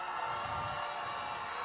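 A crowd at a FIRST robotics district event cheers for the Red Alliance, a steady wash of distant shouts and whoops from many voices in a large hall, held at even loudness throughout.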